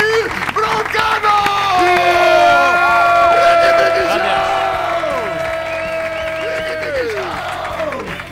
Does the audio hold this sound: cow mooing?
no